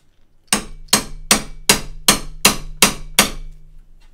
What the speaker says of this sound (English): I need the hammer. Where's the hammer gone?